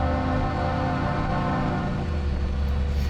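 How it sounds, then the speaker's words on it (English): A deep, sustained bridge salute horn blast drones steadily for the whole stretch, loud and unbroken, with a low rumbling hum beneath it. "So what you're hearing here is the bridge salute."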